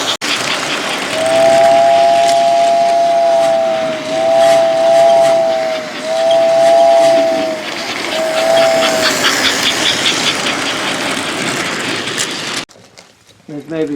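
A vintage American Flyer toy train set runs with a steady mechanical rumble, and its whistle gives several short sustained toots in a row. Background voices chatter throughout before the sound cuts off abruptly.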